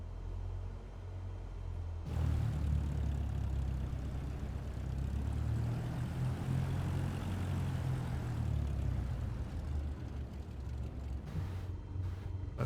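A Cessna 176 light aircraft engine in Microsoft Flight Simulator swells from a low idle into a steady, loud, droning takeoff roar that holds alone for the rest of the stretch.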